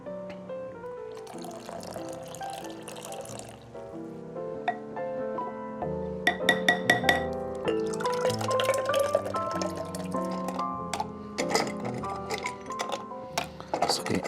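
Pineapple juice is poured into a cocktail mixture, heard as a close trickling and gurgling pour with rising tone, followed by clinks and sloshing of liquid in a glass or shaker.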